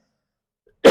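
A single sharp cough comes after a stretch of silence, close and fairly loud, brief and harsh with no words around it.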